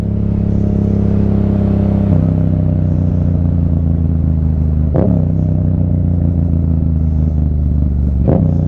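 A motorcycle engine holds a loud, steady mid-pitched drone at close range during a wheelie attempt, with two sharp clanks, one near the middle and one at the end.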